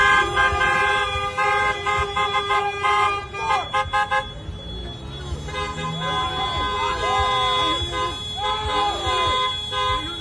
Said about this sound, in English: And this is on a major street. Look at the cars going by.